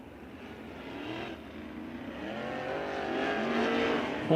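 Sprint cars at speed during dirt track hot laps at a USAC Sprint Week event in Bloomington, engines droning continuously and building louder toward the end, with overlapping revs of several cars and no talk.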